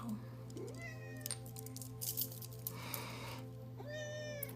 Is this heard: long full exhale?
no